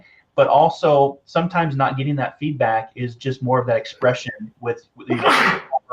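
A single sharp sneeze bursts out near the end, loud and broadband, right after someone speaking steadily in a livestream setting; his talk runs throughout.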